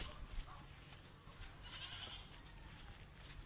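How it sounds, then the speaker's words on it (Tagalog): A goat bleats several times, faint and somewhat distant, over a steady outdoor background hiss with no one talking. "Ayan po yung kambing."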